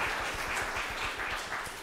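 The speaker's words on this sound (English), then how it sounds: "Another resounding applause for Marc T." Audience applause for a speaker at a 2014 leadership event, a steady broadband patter of clapping that is moderately faint and continuous, with no voices over it.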